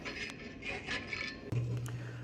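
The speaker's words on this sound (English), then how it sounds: "If I see something I don't like, it's pretty easy to adjust it with a round file." A round file rasps against a hand-forged steel coffee scoop in a blacksmith shop with a few short scraping strokes, followed by a low mechanical hum; the sound is faint and close.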